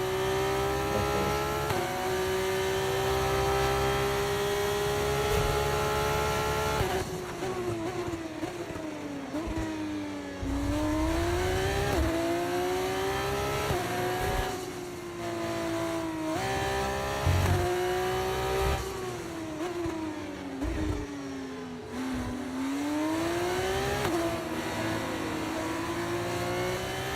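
A race car engine in a video game race revs hard and shifts through gears, its pitch climbing and dropping in repeated sweeps, loud and continuous throughout with no talking.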